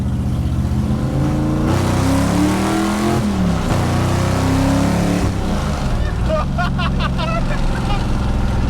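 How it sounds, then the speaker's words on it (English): 1962 Dodge Dart with a 413 Max Wedge V8 pulling hard in first gear, a loud rising engine roar heard from inside, a brief dip at the shift, then continued rumble with clicking noises near the end. "here's a little bit of first gear"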